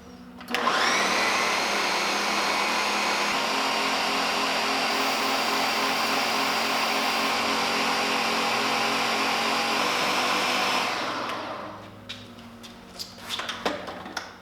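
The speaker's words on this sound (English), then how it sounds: "Okay, all blended up." A countertop blender whirs loudly and steadily for about ten seconds while blending a pizza puff batter, starting abruptly and winding down at the end, followed by a few faint clatters nearby.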